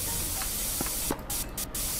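An air freshener can sprays in the video game Internet Cafe Simulator: a long continuous hiss, then three short clipped puffs, loud and close, with faint taps underneath.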